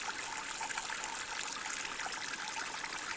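Steady splashing trickle of a water fountain in the Halloween-themed video game Aridan's Halloween Escapades, a continuous bright stream of falling water heard alone at moderate level with no voices.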